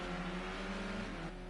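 A race car engine in a video game drones steadily with a harmonic whine, its pitch easing downward near the end as the revs fall away.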